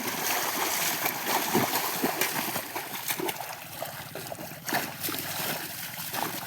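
Water splashes and trickles steadily while a bicycle is washed outdoors in the sun, a continuous close wash of spattering with small bursts, and faint voices in the background.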